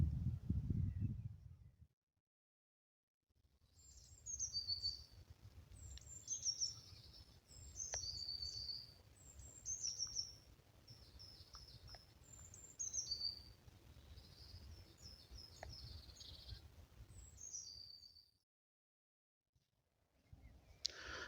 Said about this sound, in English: a couple of missel thrushes starting to sing over on the left